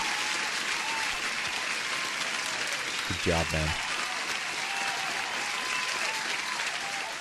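A canned applause effect plays during a live trading stream, a sustained wash of clapping beneath a voice speaking over it.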